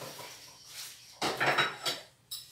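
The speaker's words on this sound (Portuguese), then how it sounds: "Agora vou eu para aqui lavar a louça." Dishes being washed in a kitchen sink, with crockery and cutlery clattering and knocking in irregular bursts, louder clanks in the second half, close by and with no talk.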